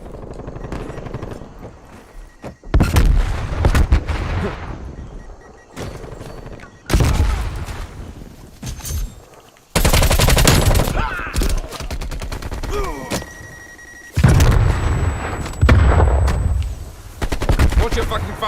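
Bursts of rapid automatic gunfire and heavy shots from a Call of Duty Black Ops Cold War multiplayer match, loud and close, coming in several separated volleys with brief quieter gaps between them.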